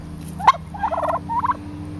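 Turkeys gobble close by: a sharp call followed by two rapid, rattling gobble bursts, loud and clear over a low, steady background hum.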